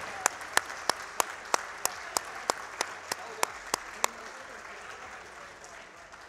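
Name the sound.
audience applause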